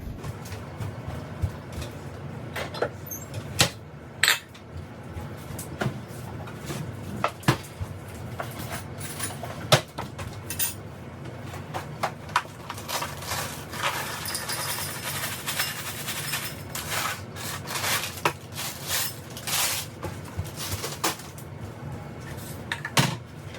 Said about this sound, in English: All the dishes I've done and all the dishes I need to do.